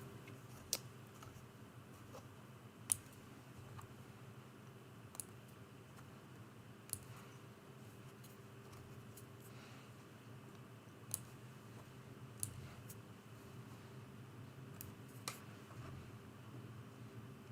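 Scissors snipping loose threads from a small quilted mug rug, heard as a few faint, sparse clicks spread across a quiet room tone.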